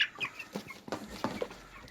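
Young Buff Orpington chickens from a hatchery cluck and peep softly in short scattered bursts, fairly close but quiet, with no talking.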